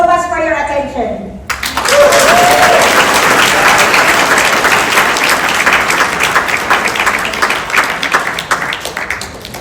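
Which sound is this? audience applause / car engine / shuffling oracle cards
audience applause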